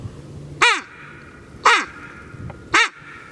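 Three short, harsh, squawking calls from a poorly blown duck call, evenly spaced about a second apart, each rough and raspy with a quick downward bend.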